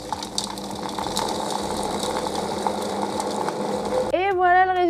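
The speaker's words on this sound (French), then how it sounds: "Et là, je vais mixer." A food processor blends raclette cheese, pepper raclette and charcuterie, with a steady grinding, whirring motor running throughout. A voice speaks near the end over the machine.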